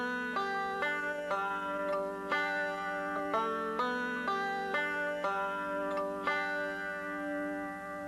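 A banjo plays one measure of a bluegrass roll at normal speed, with quick plucked notes from the thumb and fingers and pinches of the first and fifth strings. The picking is bright and steady with a regular rhythm and no talk.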